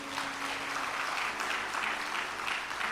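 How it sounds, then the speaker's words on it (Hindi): An audience claps continuously throughout, a dense, even patter at moderate distance from a crowd at a devotional Krishna bhajan and katha gathering. "10 सेकंड लेट बजानी थी ताली आपको।"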